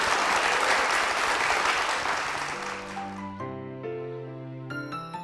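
Church congregation applauding during a Korean Methodist church service, dense clapping that fades over several seconds as soft organ or keyboard chords rise beneath it.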